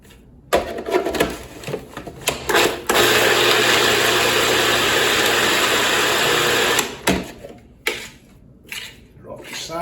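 A food processor pulses a falafel mixture with cilantro, stems and herbs, in a long loud whir of about four seconds, with shorter bursts before and after and a person talking around it.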